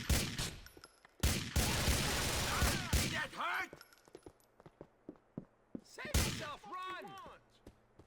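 Bursts of gunfire from the video game GTA 4 during a raid on a diamond dealer's place: a dense rattling volley up front, then scattered single shots and short bursts with ringing echoes, fairly loud.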